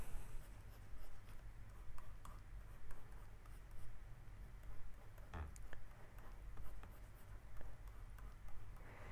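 A pencil drawing a box on paper, with continuous soft scratching strokes and small taps close up, steady and quiet throughout.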